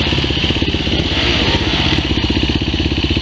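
Motorcycle engine revving hard on a trail ride in the Serra da Canastra, a loud, close, steady throaty drone with rapid pulsing firing rhythm throughout.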